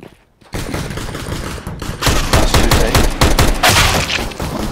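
Counter-Strike: Global Offensive gunfire, a rapid loud burst of repeated shots after a brief quiet start, dense cracks continuing to the end.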